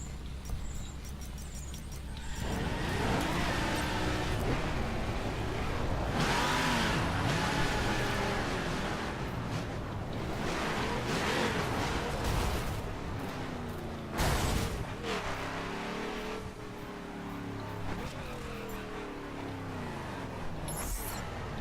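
A car engine held at open throttle in The Crew, a sustained loud droning roar that rises and shifts in pitch across the run, steady and close with no voices over it.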